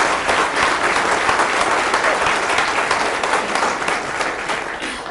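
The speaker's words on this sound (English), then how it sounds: "Will you please stand up so we can applaud her?" Loud, dense applause from an audience at a school senior spotlight event, continuous clapping filling the space without a break.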